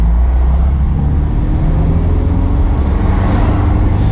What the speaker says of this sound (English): Stop and go traffic.